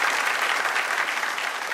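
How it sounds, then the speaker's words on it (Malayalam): A studio audience at a televised comedy show applauds performers on stage, a loud, continuous crowd of clapping hands that holds steady for a couple of seconds. "റിമി, ടീം റോക്ക് ഉഗ്രനൊരു കൈയടി കൊടുത്തേ പറ്റൂ ഇവർക്ക്"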